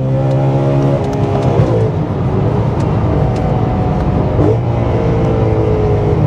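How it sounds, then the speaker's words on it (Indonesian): A rare BMW M3 E92 GTS engine screams at high revs around 8,300 RPM, a loud sustained wail with small dips and rises throughout, heard close with no voices. "Mesin ini rasanya berteriak kegirangan."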